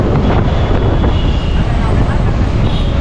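Motorcycle engine running without an exhaust on a Delhi road, giving a loud, continuous raw rumble mixed with heavy wind buffeting across the whole stretch.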